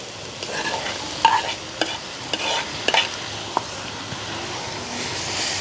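Onions and tomatoes stirred and sautéed in a pan for an egg devil at night in a village kitchen: a soft constant sizzle broken by repeated sharp scrapes and clacks of a spoon against the pan.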